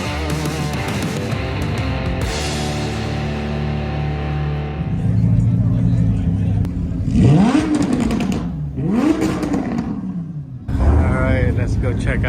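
A car engine revs hard several times in a row in loud rising and falling sweeps, close by, among a gathering of cars, with a thick mechanical rumble between bursts.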